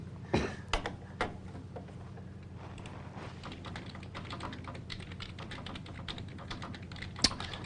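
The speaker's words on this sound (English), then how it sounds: "you can hear the tap of keys next to me" Computer keyboard keys are tapped in quick, quiet, irregular clicks through a room with a poker broadcast. A few sharper taps stand out over a steady low hum.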